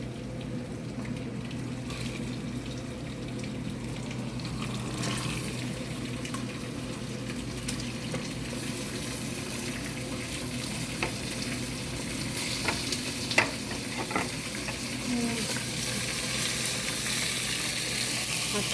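Meat and onions fry in a pot for Ethiopian mugelgel, giving an even, moderate sizzle with occasional light clinks and scrapes from stirring.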